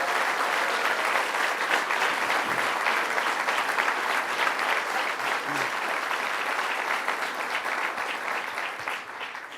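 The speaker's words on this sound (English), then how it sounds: "let's give them a round of applause" Audience applause at a governor's legislation signing event, steady and dense clapping from a large crowd, sustained throughout and gradually tapering near the end, with no speech over it.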